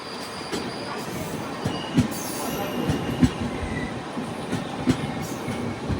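An Indian tourist train with a Vistadome coach slows on the line between New Jalpaiguri and Hasimara in West Bengal, wheels rumbling steadily with a few sharp squealing brake and rail clanks spaced through the run, heard from inside the carriage.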